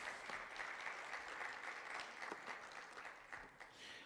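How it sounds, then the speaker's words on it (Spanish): A church congregation applauds a guest speaker, sustained dense clapping from a crowd at moderate, even level for several seconds, slightly trailing off toward the end. "Nueva Esperanza, le recibe con un aplauso"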